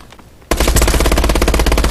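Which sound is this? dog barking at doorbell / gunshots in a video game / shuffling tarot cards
gunshots in a video game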